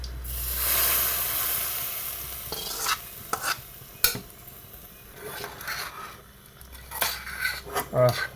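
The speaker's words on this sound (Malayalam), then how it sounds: "ഈ കടുക് ഇതെല്ലാം നമുക്ക് മൂപ്പിച്ചതിന് ഇതിലേക്ക് ഒഴിച്ചു കളയാം." Hot tempering of fried mustard seeds and two dried red chillies poured into a jackfruit curry, with a loud hiss and sizzle, metal spoon scraping and stirring against the pot, and clinks, close up.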